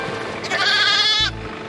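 Sheep on a farm flock bleat in a loud, wavering call lasting most of a second, close by, followed by a low rumble of background noise.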